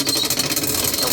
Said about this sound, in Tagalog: Parang dito talaga sa motor niya guys, yung ingay.